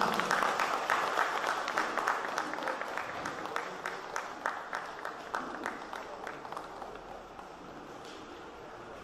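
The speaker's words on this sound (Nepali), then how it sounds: "सम्मानस्वरूप सम्पूर्ण महानुभावहरूलाई ताली।" A crowd at a municipal assembly in Bhimad Municipality applauds dignitaries with rapid, dense clapping that starts strong and slowly thins and fades over several seconds.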